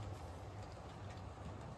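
Model railway train reversing along its track, a faint steady low rumble and hum with soft continuous running noise, no talk over it.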